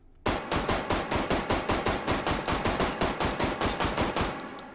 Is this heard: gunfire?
yes